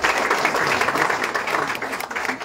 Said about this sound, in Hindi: आइए स्वागत कीजिए इनको ताली बजा के एक बार।